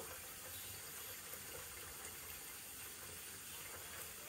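Water runs steadily from a tap as a steady, soft hiss while a baby's face is washed, continuous and fairly quiet with no voices.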